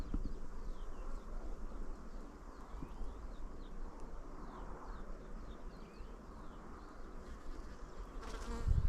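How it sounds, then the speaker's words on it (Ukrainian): Honeybees buzz steadily around beehives in an apiary as the colony shifts to acacia bloom, a dense, continuous swarm drone close by, with faint birdsong mixed in. "Та вже й багатенько, кстати, пчел. І воно літає."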